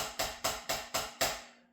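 Five quick, even snare drum strokes in a triplet pattern with no buzz roll, each a crisp, dry crack followed by a brief ring, fairly soft and close, ending in a short fade.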